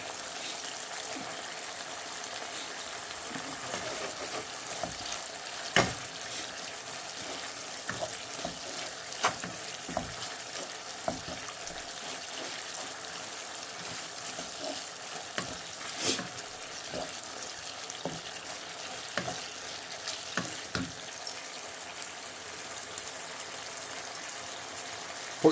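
Mushrooms frying in a pan, cooked down until soft, give a steady close sizzle with scattered scraping knocks of stirring throughout, and no talk over it.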